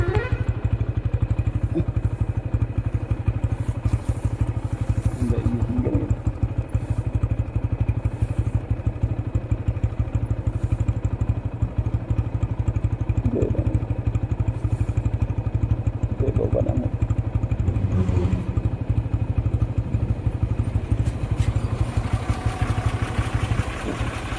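A motorcycle is ridden along a road, its engine giving a steady, continuous drone with light clattering and thumps throughout and no clear talking.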